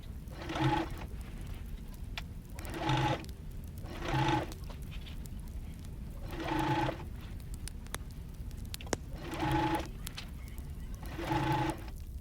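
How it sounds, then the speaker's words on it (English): A sewing machine top-stitches the waistband of a pleated skirt in short separate bursts, about six runs of a second or so each with quiet gaps between, close and moderately loud. "After that, I am going to top stitch the waistband, and I'm also making sure that I'm catching the fabric at the back."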